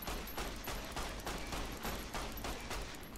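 Rapid gunfire in Fallout: New Vegas aimed at robots, a dense, continuous fusillade of loud repeated shots with a steady pulsing rhythm and no talk over it.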